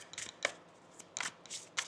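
A deck of tarot cards is shuffled close up, in quiet bursts of papery riffling and slapping that come in uneven clusters with short pauses between them.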